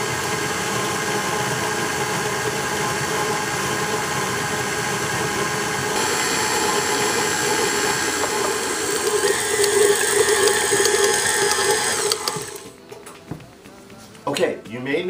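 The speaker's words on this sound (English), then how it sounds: "I'm going to turn my mixer on medium-low speed and slowly add my dry ingredients" Electric stand mixer running at medium-low speed while dry ingredients are added to banana cupcake batter, a steady motor whir throughout that swells briefly before cutting off near the end.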